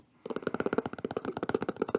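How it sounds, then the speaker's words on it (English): Rapid, close tapping in a quick steady rhythm, many light knocks in a row, with no voices. "Oh, that's a great sound, the tapping there."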